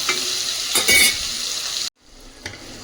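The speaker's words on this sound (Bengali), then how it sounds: "এটা একটু ভালো করে ভেজে নেবা যতক্ষণে টমেটোগুলো গলে যাচ্ছে।" Grated ginger and green chilli frying with tomatoes in a pan for Bengali mocha ghonto, a steady sizzle with scraping stirs and louder bursts early, then a sudden cut to a much quieter, softer frying hiss.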